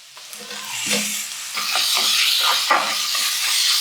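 Tomatoes go into a pan of frying onions for a Kerala-style fish roast, setting off a steady sizzle and hiss with some stirring clatter near the start.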